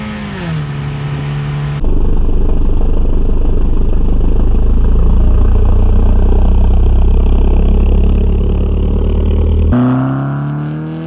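A car revs up and launches hard, its engine roaring loud and steady for several seconds before it fades, with a short higher-pitched engine whine at the start and end.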